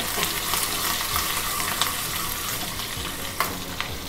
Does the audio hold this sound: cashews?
yes